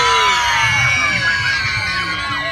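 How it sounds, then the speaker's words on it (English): An indoor audience at a magic show screams, yells and whoops on cue, a dense wall of crowd noise with children's high shrieks that holds loud for a couple of seconds. "I want you to make as much noise, scream and shout after three as loud as you can"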